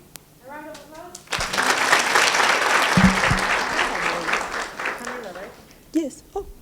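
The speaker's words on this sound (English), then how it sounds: "A round of applause." An audience at a chat event breaks into loud, sustained applause lasting several seconds before tapering off, with a few voices heard briefly at the start and end.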